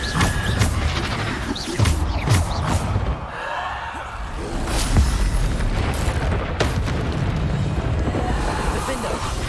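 Bombarda spell explosions go off in Hogwarts Legacy, several heavy booms and crashing blasts in a row over a busy game soundtrack, with bursts of other spell effects.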